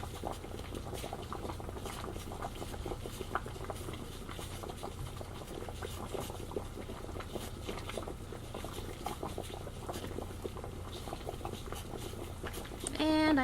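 Water bubbles at a steady rolling boil in a pot for canning tomatoes, a dense, continuous burbling patter heard close up, with some faint talk underneath.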